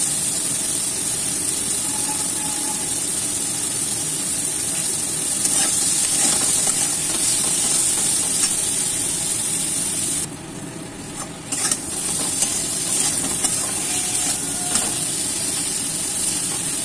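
Crab curry masala with cumin and pepper powder sizzles steadily in a pan, a dense continuous hiss and crackle with occasional stirring scrapes and a brief dip in loudness partway through.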